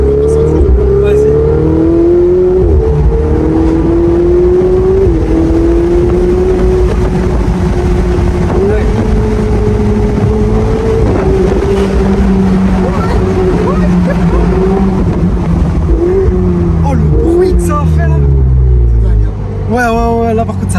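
Ferrari 488 Spider engine revving loudly while driving through small bends, a loud sustained drone with rising and falling pitch, with people talking over it throughout.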